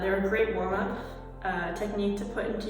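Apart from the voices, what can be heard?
None of the usual background noises is heard.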